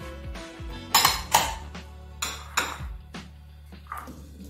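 Chopped smoothie ingredients, including kiwi, drop into a blender jar in several separate knocks and clatters, sharp and close, with pauses between them and no talk.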